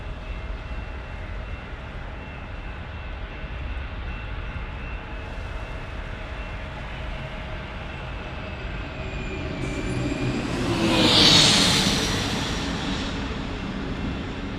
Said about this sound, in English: Next arrival is a private jet, a Cessna CJ3